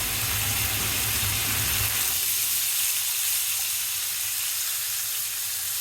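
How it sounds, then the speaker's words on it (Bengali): Large river giant prawns fry in hot oil in a pan, giving a loud, steady sizzling hiss that rumbles heavier at first and then settles into an even crackle, close and uninterrupted. "মাছগুলো আমি ভেজে নেব।"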